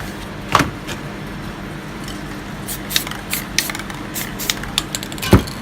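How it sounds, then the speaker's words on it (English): Aerosol spray paint cans spraying yellow and red paint onto a surface for spray paint art, giving short separate hissing bursts and a few sharp clicks and taps, close and fairly loud, with no talking. "so spray yellow and a little bit red with triangle shape"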